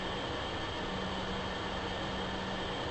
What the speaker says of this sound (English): we've got plenty of steam pressure to move this train